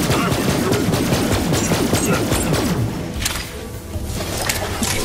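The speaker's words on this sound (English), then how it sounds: "some kind of machine gun pistol. Energy machine pistol." Rapid bursts from an energy machine pistol firing in Borderlands 3, a dense rattling stream of shots with thudding impacts that briefly lets up before resuming.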